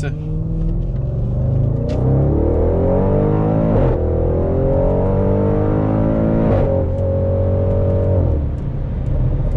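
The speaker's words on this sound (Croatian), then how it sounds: "Kao što možemo primijetiti, auto je poprilično glasan." A loud Audi RS7 engine, tuned to 720 hp and 1000 Nm, drones from inside the cabin, its pitch rising as it accelerates and dipping at each gear change, with a deep constant rumble underneath.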